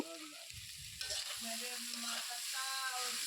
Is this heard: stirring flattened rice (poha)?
yes